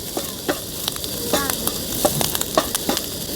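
Clams stir-fried in masala in a pan for a street-style roast, a steady sizzle punctuated by frequent sharp scrapes and knocks of the spatula against the pan.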